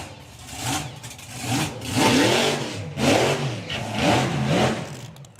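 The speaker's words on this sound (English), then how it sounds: "Roy Wilding's supercharged Hemi Dragster. Slingshot Dragster" A supercharged Hemi slingshot dragster engine revs in a string of rising, surging blasts, each swelling and falling back, heard fairly close at a drag racing meet.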